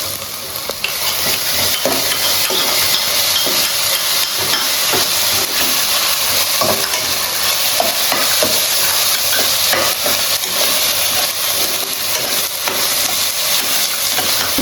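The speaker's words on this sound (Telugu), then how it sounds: "ఉల్లిపాయలు మగ్గిన తర్వాత అల్లం వెల్లుల్లి పేస్ట్ వేసుకుంటాము." Ginger garlic paste frying with softened onions for a chicken curry gives a loud, continuous sizzle and hiss, close up and unbroken for around fifteen seconds, with faint stirring scrapes and no talking.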